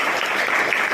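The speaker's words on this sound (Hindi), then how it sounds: "ताली बजाओ सब।" A brief round of applause from a class of children at a general knowledge quiz, many small hands clapping together in a dense, even patter nearby.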